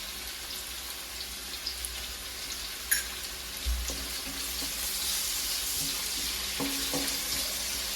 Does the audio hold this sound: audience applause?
no